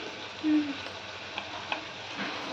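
A spoon stirs salted mung bean curry in a pot, soft scraping and light bubbling close by, with a couple of faint clicks and a low steady background hum.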